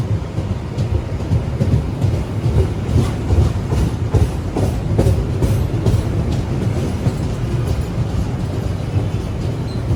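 A passenger train departing Gambir station in Jakarta rumbles loudly and continuously with rhythmic clacking of wheels, heavy and close, with no voices.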